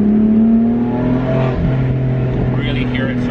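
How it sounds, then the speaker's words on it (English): A 2016 BMW M4's twin-turbo engine pulls hard under acceleration, a steady droning engine tone with a rising turbo whistle, heard from inside the car with someone talking over it. "as the turbos start to spool up, obviously it's twin turbo, so it comes on in the lower rev range"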